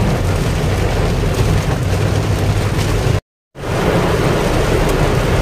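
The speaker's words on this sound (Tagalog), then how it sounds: "Super lakas ng ulan dito." Heavy rain pours in a dense, steady roar under a dark afternoon storm, with deep thunder rumbling beneath it, loud and close, broken briefly by a sudden cut to silence.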